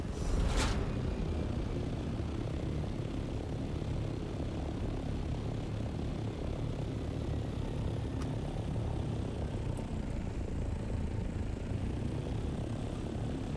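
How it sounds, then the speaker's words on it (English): Vehicle engines run in the video game Dune Awakening. They give a constant, low, droning hum that holds steady throughout, with a faint click or two and no voices. "I can still hear my engines running, which doesn't make any sense to me."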